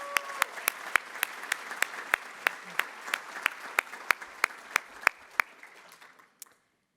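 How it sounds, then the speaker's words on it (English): Applause from a crowd, with sharp individual claps standing out in a steady rhythm over a dense patter, running several seconds before stopping abruptly. "let me give them a round of applause as well"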